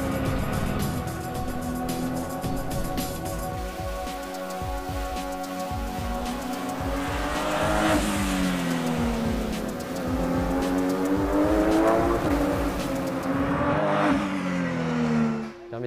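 A Porsche 997 GT3 Super Cup race car is driven hard through corners, its engine note rising and falling with gear changes and throttle lifts, loud and close throughout.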